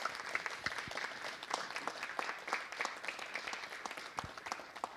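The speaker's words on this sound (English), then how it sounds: "So let's give them a round of applause." Steady applause from the audience for the astronomy and space physics capstone speakers, many hands clapping in a continuous crackle at moderate distance, without voices.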